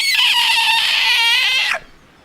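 A white bird in the video game Lost Odyssey gives a single high, ringing cry, loud and sustained for under two seconds with a wavering tone before cutting off sharply into silence.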